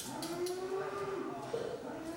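Cattle at a slaughterhouse during Eid al-Adha, where cows and goats are slaughtered, give low drawn-out lowing calls that rise and fall over a steady background hum, with no talk.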